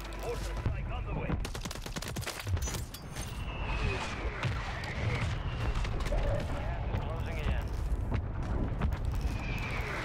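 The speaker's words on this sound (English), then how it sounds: "Mortar strike on the way." Mortar strikes land on Rebirth Island in Call of Duty, heavy booms mixed into near-continuous gunfire and crackling shots, with voices talking over the action.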